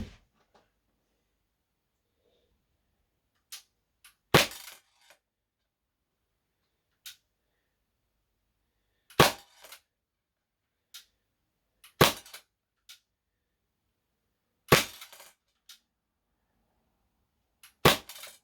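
A Tokyo Marui Mk23 airsoft pistol fires at a target in a sequence of sharp, loud cracks spaced a few seconds apart, with quieter clicks of handling in between and near silence otherwise.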